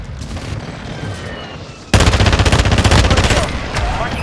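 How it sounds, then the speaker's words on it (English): Rapid mortar strike blasts in a Call of Duty-style video game, a dense rhythmic string of loud booming impacts that starts suddenly after a quieter stretch of background battle noise. "Our mortar strike is inbound."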